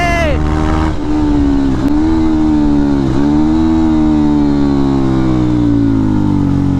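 A loud, close KTM Duke 390 motorcycle engine with an aftermarket exhaust, deep and throaty, rising and falling in pitch as it revs through several gear changes.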